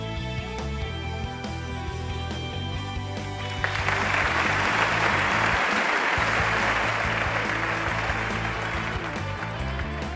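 Crowd applause in the Wheel of Fortune video game on PlayStation 3, a dense wash of clapping swelling up partway through over steady game music and continuing loudly to the end.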